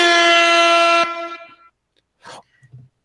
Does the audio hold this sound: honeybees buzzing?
no